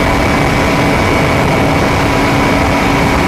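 KTM RC 200 motorcycle at over 100 km/h, a dense, loud roar of engine and wind buffeting that stays steady and unbroken for the whole stretch.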